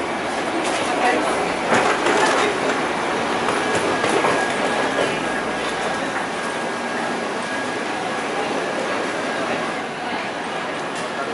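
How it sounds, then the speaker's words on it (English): Automated people mover train at Heathrow Terminal 5 rolling along with a steady rumble and faint clatter, a continuous whine under it, and people talking throughout. "take an automated people mover to the satellite terminal where our plane will be leaving for Chengdu, China"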